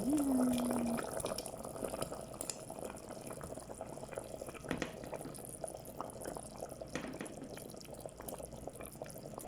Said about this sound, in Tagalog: nilagyan ko siya ng tubig